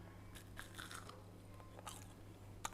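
Crunchy fried tofu being bitten and chewed, a few quiet crisp crunches spread over a couple of seconds with one sharper bite near the end, close and faint.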